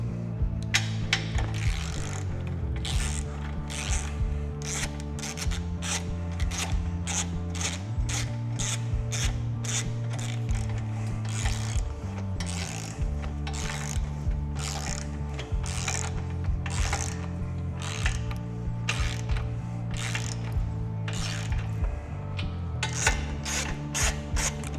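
Torque wrench set to 45 foot-pounds with a 5/8 socket, ratcheting as it tightens a Harley swingarm bolt: steady, rhythmic clicks at close range that run throughout over a sustained tonal backing.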